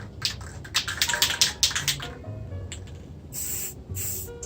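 Gold spray paint hissing from an aerosol can onto an airsoft Dragunov rifle, a string of short close bursts followed by a couple of longer, softer sprays.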